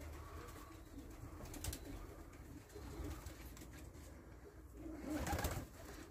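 Pigeons in a loft coo in soft, low repeated calls with a few wing flutters and rustles, close by against a quiet background, and no one speaks.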